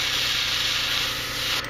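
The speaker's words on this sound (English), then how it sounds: "I'm only using this part. Very edge of the spray pattern. Most of my paint is going off into the distance." Airbrush paint spray hissing steadily for a fade job on a Gunpla MG Sinanju model kit, a close, continuous broadband hiss that cuts off briefly near the end.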